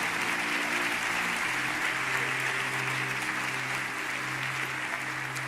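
A church congregation applauds at a Portuguese-language sermon, steady dense clapping from many hands filling the room, with a sustained low tone running underneath.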